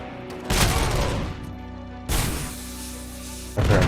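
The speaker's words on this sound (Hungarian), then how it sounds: "mekkorát robbant valami" Heavy gunfire and explosions from the shooter video game Robocop: Rogue City come as loud bursts that start abruptly, fade, then return in waves.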